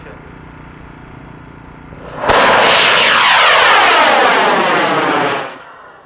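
An L1300 motor ignites on a high-power model rocket launch, a sudden loud roaring blast that holds for about three seconds and then fades as the rocket climbs away.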